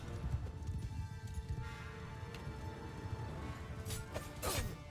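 Cavalry horses galloping in Mount & Blade II Bannerlord, a dense rumble of hoofbeats in a battle, with clashing impacts and a sharp crash toward the end.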